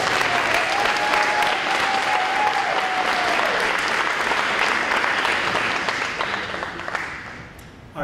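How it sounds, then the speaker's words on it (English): Crowd at an adult basic education graduation celebration applauding a graduate: dense, continuous applause that holds steady and then tapers off near the end, with faint voices mixed in. "Let's give him a round of applause."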